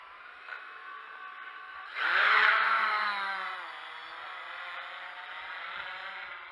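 Monstertronic Invader V2 X8 octocopter drone motors spin up with a sudden rising whir, peaking loudly then settling into a steady high-pitched buzz of props.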